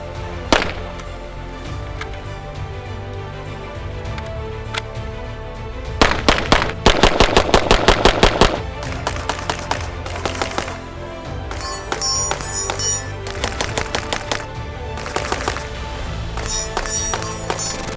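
Bursts of submachine gun fire, several rapid strings of shots with single cracks between, loud and close over a steady background din.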